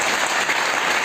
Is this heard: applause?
yes